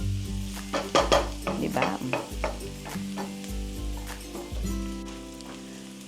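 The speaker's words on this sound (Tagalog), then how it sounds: "Hayaan nyo lang mag-caramelize yung sibuyas, bawang, at saka luya." Onion, garlic and ginger sizzling and caramelizing in a pan, a steady close crackling fry broken by scraping stirs, with a voice briefly speaking once.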